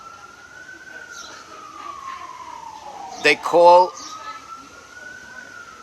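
An ambulance siren passing outside sweeps slowly up and down in a steady wail, moderately distant, with someone briefly speaking over it near the end.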